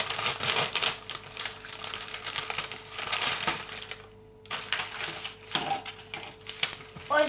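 Crinkly plastic rustling and crackling close by, in irregular bursts with a brief quiet pause midway, like a packet being torn open and unwrapped.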